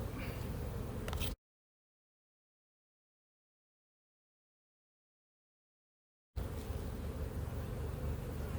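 Honeybees buzz over a hive frame carrying a swarm cell, a close, steady droning hum that cuts out completely for several seconds in the middle and then resumes.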